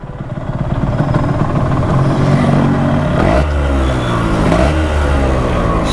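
A Yamaha RXZ 5-speed motorcycle engine runs steadily and loudly throughout, with a low rumble and rising, revving pitch sweeps partway through.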